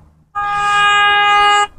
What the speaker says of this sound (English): He's honking his horn because he agrees.